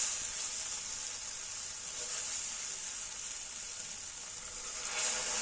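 Soya keema with chopped tomato sizzles steadily in a pan, a continuous close frying hiss with no pauses and no voices.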